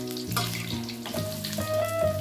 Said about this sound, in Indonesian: Kita goreng dengan sering-sering dibalik ya.